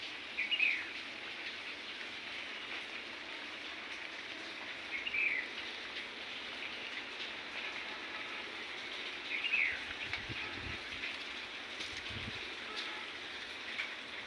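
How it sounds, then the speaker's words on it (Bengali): Light drizzle falls on a rooftop garden in the early evening after a storm, a faint, steady hiss with a few distant bird chirps over it. "ঝিরিঝিরি করে বৃষ্টি হচ্ছে।"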